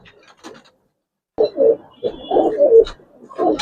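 Giribaz pigeons in a loft give soft, close cooing calls in short broken phrases, with brief pauses and a few faint chirps between them, no talking.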